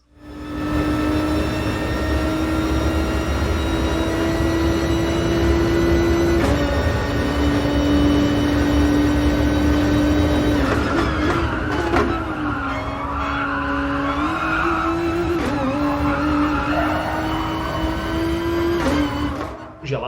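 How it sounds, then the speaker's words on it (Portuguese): Japanese race car in Gran Turismo Sport roaring down the pit straight at Catalunya, a loud steady engine drone with shifting pitch and gear changes, heard continuously over the whole stretch. "vamos ouvir o rugido desse motor monstro que o carro japonês traz debaixo do capô, enquanto rasga a reta dos boxes"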